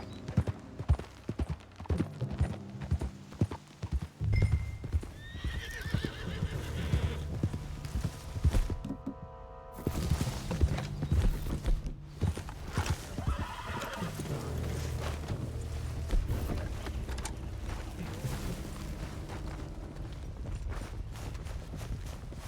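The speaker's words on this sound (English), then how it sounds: "What's got this horse spooked, huh?" Horse neighing and clip-clopping hooves in the Red Dead Redemption 2 video game, heard close and loud amid a dense layer of ambient game noise, with a whinny rising around the middle of the stretch.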